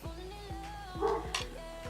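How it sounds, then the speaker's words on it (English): Faint, distant dog barks repeat every half second or so, a steady yapping series with a low background hum. "the dog next door is barking"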